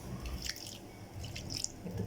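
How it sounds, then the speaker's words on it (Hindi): Water trickles and drips into a cooking pot holding jaggery in a home kitchen, two short pouring bursts separated by a brief pause. "गुड़ को पतीली में डालने के बाद भी बस हम जो है थोड़ा सा पानी डाल देंगे इसमें।"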